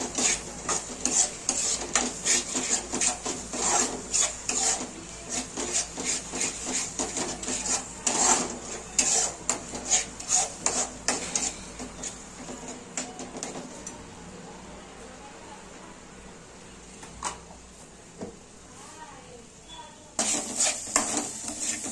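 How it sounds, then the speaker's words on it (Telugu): A spoon stirring homemade masala frying in oil in a pan for egg omelette curry, with rapid scraping strokes and a steady sizzle; the scraping thins out midway, leaving the sizzle alone, then returns near the end. "మసాలా కూడా బాగా వేగేటట్టు మనం కలుపుకుందామండి ఇందులో."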